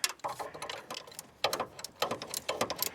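Ratcheting clicks from a socket wrench loosening a bolt on the alternator belt tensioner of a 2000 Toyota Avalon come in several quick bursts of close, sharp ticking.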